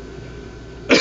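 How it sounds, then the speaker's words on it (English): One short, sharp cough from a man with allergies, sudden and loud at the very end after a quiet stretch. "If I cough every once in a while, it's because of allergies."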